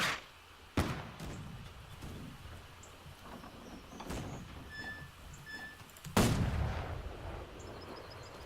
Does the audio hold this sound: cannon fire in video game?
yes